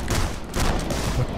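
Rapid gunfire in the video game Rocketbirds: Hardboiled Chicken, a dense loud burst of overlapping shots filling the short moment with no break.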